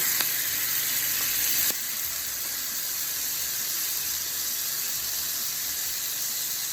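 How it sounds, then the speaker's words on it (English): Chipotle lemon marinade sizzling in hot oil alongside salmon in a pan, a steady bright hiss that sharpens briefly at first, then settles into continuous close frying crackle. "we're going to add in our chipotle lemon marinade around in the oil"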